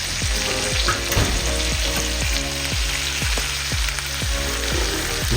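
NY strip steaks sear in a cast iron pan with a steady, loud sizzle, punctuated by a rhythmic series of scraping or clinking pulses through the whole stretch, with no one talking.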